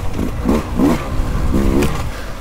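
A 2023 Beta 300 Race Edition two-stroke dirt bike engine blips and revs close by in several quick rising bursts, loud and raspy with a choppy rhythm.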